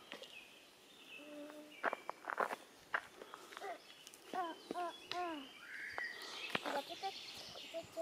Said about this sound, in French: Vous entendez la nature, les oiseaux